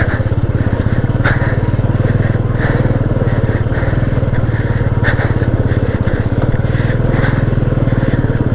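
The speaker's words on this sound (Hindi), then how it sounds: "फर्स्ट गियर में चलेंगे।" Motorcycle engine labouring in first gear up a steep, roadless mountain track toward Munsiyari, a loud continuous close throb that holds steady throughout with no speech.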